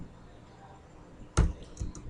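Computer keyboard typing while coding a loop, a faint hum followed by a few sharp, close clicks and taps clustered near the end.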